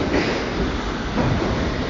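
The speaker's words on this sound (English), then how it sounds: "Okay, this is our train." A London Underground train on the Hammersmith to Barking line rumbles loudly and close by, a dense steady roar of wheels and motors filling the whole moment.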